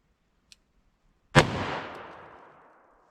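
A single sharp .357 Magnum gunshot from a Hornady Critical Duty load is fired into wood. The report comes as one loud crack that decays over about a second and a half, with a faint click shortly before.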